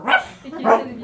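A dog's bark is imitated by a performer at a live improv show in Lyon, two voiced barks about half a second apart, close and loud, with no other talk.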